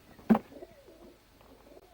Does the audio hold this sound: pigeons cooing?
yes